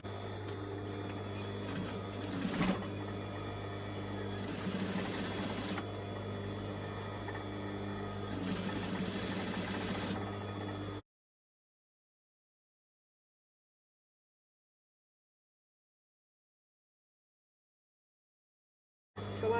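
A sewing machine topstitches a shorts waistband over an overlocked seam, its steady close motor whir broken by short faster bursts of stitching for about eleven seconds before stopping into silence.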